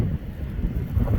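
Strong winter wind gusts during a Pennsylvania blizzard buffet the microphone, producing a loud, continuous low rumble that swells and dips throughout.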